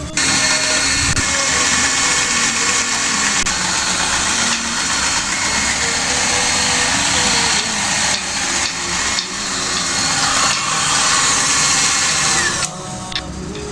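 An electric mixer whirs steadily and loudly as it blends nugget coating batter for homemade KFC-style chicken nuggets in a home kitchen, a continuous motor drone with slight wavering and a brief dip near the end.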